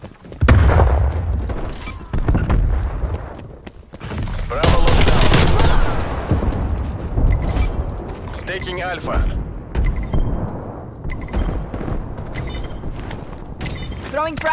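Stun and frag grenades explode in a tactical shooter video game, with several loud booms and bursts of gunfire spread across the stretch and a voice talking between them.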